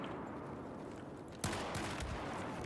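In the video game Battlefield 4, a sudden burst of sharp gunfire cracks after a stretch of quiet background hiss, followed by a few more rapid reports.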